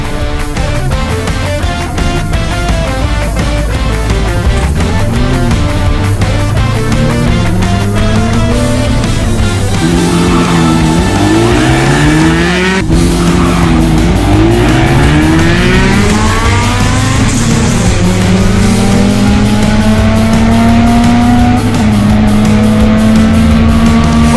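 Drag racing cars at a bracket race in Davao City roar through repeated rising engine sweeps as they accelerate and shift, loud and continuous from start to finish with no talking.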